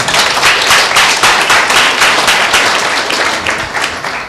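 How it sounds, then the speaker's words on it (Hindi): Loud, vigorous applause from a congregation at a Tuesday church meeting, a dense wash of clapping that stays strong throughout before easing slightly at the end. "उस पवित्र आत्मा के लिए जोरदार ताली देते हैं।"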